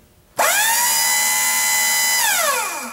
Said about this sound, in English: we're just going to arc across the solenoid to make one pump work